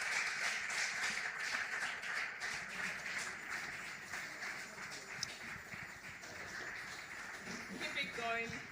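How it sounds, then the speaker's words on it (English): A conference audience claps in a broad, continuous wash of fairly faint applause lasting several seconds, with a few louder individual claps and a brief voice near the end. "Please keep clapping."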